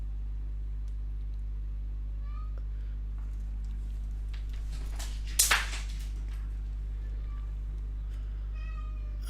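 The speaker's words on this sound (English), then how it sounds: "And now my cat is going crazy." A cat lets out a few short, thin meows, scattered across the clip over a constant low engine-like hum, with one sharp knock near the middle.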